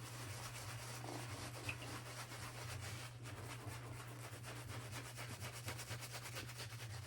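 A shaving brush scrubs lather on a face before a wet shave with a GEM Micromatic Bullet Tip razor, making a soft, close, continuous bristly rubbing that keeps a steady back-and-forth rhythm.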